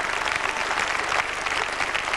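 Television studio audience at a cabaret show applauding, a loud close burst of dense steady clapping with a low hum underneath and no talk.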